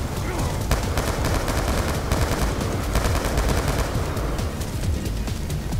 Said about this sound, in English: I think they're shooting from over here.